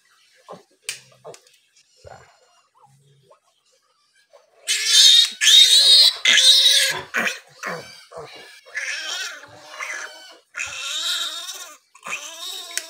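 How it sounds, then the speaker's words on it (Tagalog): A restless piglet has its teeth clipped and squeals in loud, shrill, drawn-out bursts with grunts between them, after a few quieter snorts and clicks at the start. "Medyo malikot po ang ating biik."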